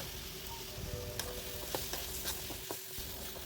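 Ingredients for a raw banana peel chutney, including coriander leaves and flattened raw mango, fry steadily in a pan, a constant close sizzle broken by a few sharp stirring scrapes and clicks, with no talk.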